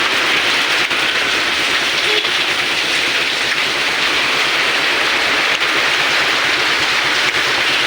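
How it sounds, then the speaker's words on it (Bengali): Constant rain falls outdoors, pattering onto plastic sheeting near a parked motorbike, an unbroken close wash of hiss with no voices. "একটু বৃষ্টি পড়ে যাচ্ছে"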